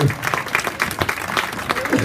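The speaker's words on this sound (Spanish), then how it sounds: "Denle un aplauso a Cristo en esta tarde." Church congregation applauding at a Spanish-language testimony service, a steady dense patter of many hands clapping close and fairly loud throughout.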